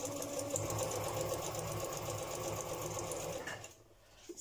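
A sewing machine runs a straight stitch through paper collage on a window envelope, a steady continuous mechanical whir close by for most of the clip before stopping abruptly near the end.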